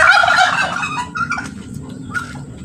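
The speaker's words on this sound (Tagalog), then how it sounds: "Tapang ng pabo." A turkey gobbles loudly up close in a rapid warbling burst, followed by a few softer clucks and calls.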